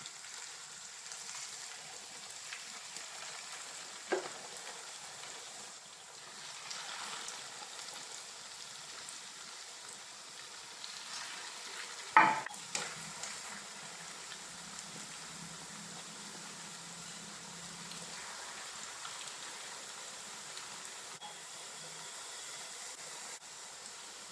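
Pieces of a homemade evening snack slipped one by one into hot oil, frying with a soft, steady bubbling hiss and a single brief clunk midway, no voices.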